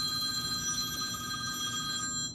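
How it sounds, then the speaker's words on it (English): A telephone rings steadily with a sustained electronic trill of several bright, even tones, close and moderately quiet, cutting off near the end with no one speaking. "And the phone is ringing."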